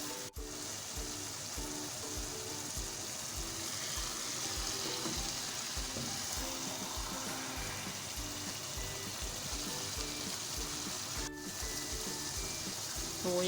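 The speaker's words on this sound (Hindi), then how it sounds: "मेथी गोश्त जो है बहुत ही अच्छे से भुन चुका है और इसका ऑयल भी ऊपर आ चुका है" Methi gosht, mutton cooked with fenugreek, frying in its released oil in a pot, giving a steady, close sizzle with a soft bubbling texture that runs unbroken and even throughout, with no voices.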